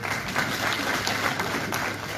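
Audience applause at a political conference, a dense and steady patter of many hands clapping in a hall, fairly loud and with no pause.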